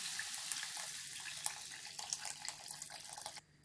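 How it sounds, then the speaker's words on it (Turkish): Hot water pours steadily into a pot of pea stew, a continuous splashing stream that runs close and alone before cutting off abruptly near the end. "Yemeğimize sıcak su ekliyorum."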